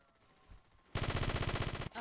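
A rapid automatic burst of video game gunfire erupts after a quiet moment, a loud, steady stream of shots lasting about a second before cutting off.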